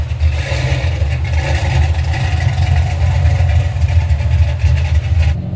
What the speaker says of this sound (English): we're in the Chevelle and it sounds amazing